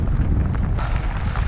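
Strong wind roars across the microphone in a continuous, dense low rumble with occasional harder gusts.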